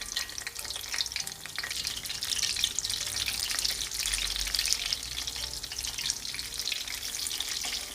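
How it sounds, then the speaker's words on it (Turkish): Eggplant pieces coated in sauce fry in hot oil, a steady loud crackling sizzle that runs unbroken throughout with faint bubbling and no voices. "Onlar kızarırken"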